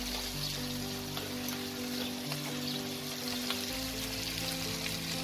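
Fried cauliflower going into sizzling masala with softened tomatoes in a pan for Bengali bhetki fish curry, a steady close crackling fry with light stirring noises.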